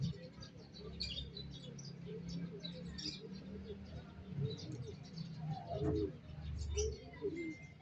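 Pigeons coo softly in a loft by the seaside, low repeated hoots and some chirps spread over a quiet outdoor background, faint and somewhat distant.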